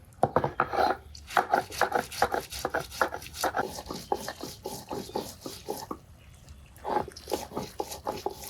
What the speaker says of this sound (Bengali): আদা রসুন পেঁয়াজ ভালো করে থেতলে নিলাম একসাথে বেটে নেব